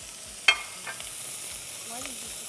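Seasoning and ingredients fry in hot oil with a steady, fine sizzle and crackle, joined by a sharp clatter and faint stirring scrapes, moderately loud and close in a kitchen.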